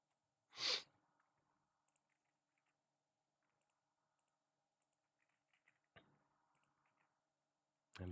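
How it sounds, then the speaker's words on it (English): A single sharp sneeze bursts out near the start, followed by quiet with scattered faint clicks and taps, and a short thump later on. "I need to sneeze."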